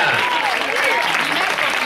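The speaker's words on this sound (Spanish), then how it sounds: "Un aplauso para ella." Brief crowd applause for a prize winner at a triathlon award ceremony in Tíjola, steady clapping with voices talking over it.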